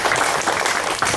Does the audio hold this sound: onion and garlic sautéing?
no